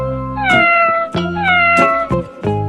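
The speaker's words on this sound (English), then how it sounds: "Cat" A cat meows loudly and close, three drawn-out rising-and-falling meows in quick succession, alone with no talking.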